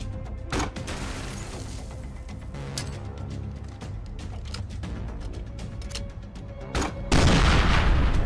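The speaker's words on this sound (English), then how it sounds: "a functional underbarrel grenade launcher with different grenade types" Underbarrel grenade launcher explosion in Fallout 4, a heavy, loud boom arriving near the end after a stretch of intermittent sharp shots and mechanical clicks over ambient game sound.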